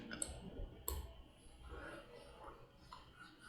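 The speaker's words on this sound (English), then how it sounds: "Then after that I will click next." Two crisp mouse clicks sound close in a quiet room, one right after the other in the first second, followed by faint low noise.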